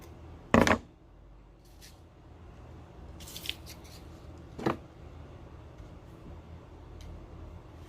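Scissors snip through ribbon while measuring a waistband for a decorated bride glass, one sharp crisp cut near the start and a softer second snip later, alone in a quiet room.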